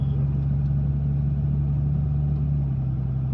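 A 2000 Dodge Ram 2500 4x4 diesel with a 47RE/48RE automatic that has no second gear pulls away at light throttle, giving a steady, deep engine drone throughout with no clearly audible shift.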